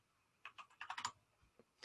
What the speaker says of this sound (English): I will type in Daenerys Targaryen